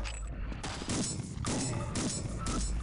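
Shotgun blasts from the eXperiment video game mod, several heavy booming shots spaced roughly half a second apart, each a loud broadband burst over a constant noisy game background.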